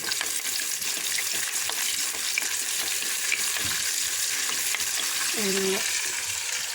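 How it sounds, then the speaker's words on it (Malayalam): Onions sizzle steadily in hot oil after mustard seeds have popped, a continuous close frying hiss with a few faint stirring scrapes and no talk. "കടുക് പൊട്ടിക്കഴിഞ്ഞ് നമുക്കിനി ഉള്ളിയിടാം."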